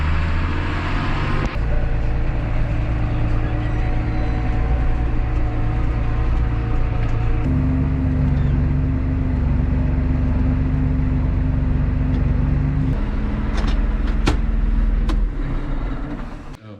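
A truck driving down the road, heard from inside as a loud, steady engine drone with road rumble, the engine note shifting as it changes gear, fading at the end.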